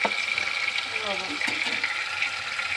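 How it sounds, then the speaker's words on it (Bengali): Spice paste with chili powder and salt sizzles and bubbles in a pan while being stirred, a steady close frying hiss with light scraping throughout. "সুন্দর করে মশলাটা কষিয়ে নেব।"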